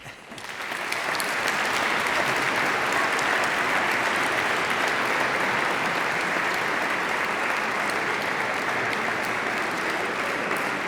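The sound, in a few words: audience applause after a choir gala concert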